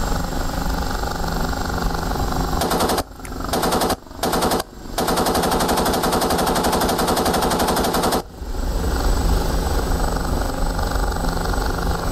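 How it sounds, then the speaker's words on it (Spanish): Long rapid bursts from the fixed forward cannon of an OH-58D Kiowa helicopter in the DCS combat simulator, several short gaps breaking the firing before it stops, with steady rotor and engine drone underneath throughout. "el cañón es fijo."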